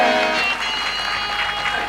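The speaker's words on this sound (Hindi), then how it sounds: "तालियां बजाइए ना, अच्छा लगता है" Applause from a crowd at a Chhattisgarhi folk nacha festival stage performance, a dense continuous patter of clapping, loud and sustained with music or tones lingering beneath.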